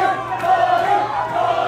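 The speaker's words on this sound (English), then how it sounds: "Crowds chanting Diory." A boxing crowd at a Zamboanga fight night chants a fighter's name, a dense and sustained roar of many voices with rising and falling swells.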